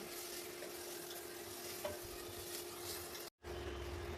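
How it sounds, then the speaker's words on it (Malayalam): Chilli powder and coriander powder stirred into potatoes and onions in a pan over a medium flame, giving a continuous hissing fry with soft scraping strokes and one brief break in the sound near the end. "മല്ലിപ്പൊടി എല്ലാം കൂടി ഇട്ട് നല്ലോണം ഇളക്കി"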